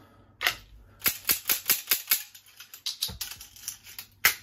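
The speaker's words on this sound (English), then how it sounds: "back to shutting up, back to reloading." Revolver speed reload practice, a quick run of sharp metallic clicks and clacks as the cylinder is loaded and handled, close and crisp, in irregular bursts with no talking.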